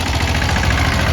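A tractor engine runs steadily and close by, a continuous low, rumbling drone with a slight knocking pulse throughout, with no talking over it.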